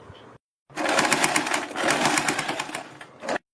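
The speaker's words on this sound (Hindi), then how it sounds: "इसके ऊपर सिलाई लगा देंगे।" Sewing machine stitching a strip onto a plate-style neckline, a steady close whirring run of about two and a half seconds after a brief start, ending in a short final burst.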